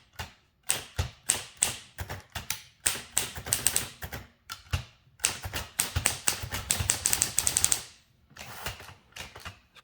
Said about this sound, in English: we're ready to type.